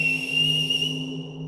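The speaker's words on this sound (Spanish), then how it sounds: "de nuevo sonó el silbato" A single steady, shrill whistle blast holds for over a second and then fades out, loud and close.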